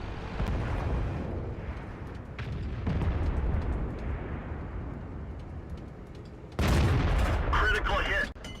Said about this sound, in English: I've still failed to realize that I'm firing HE ammo.